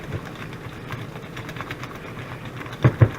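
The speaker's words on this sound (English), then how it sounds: "And get that whisked in." Whisking black pepper into carbonara sauce, a steady rhythmic rapid scraping and churning close up, with a couple of louder knocks near the end.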